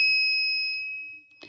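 A 12-volt active buzzer with its microcontroller removed, wired straight to the supply, sounds a steady, piercing electronic tone at close range, holding unbroken for over a second before cutting off.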